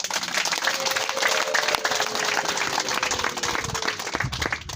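Dense, steady applause from a congregation at a Charismatic church gathering, filling the whole stretch at close range with a faint whistle-like tone drifting through the middle.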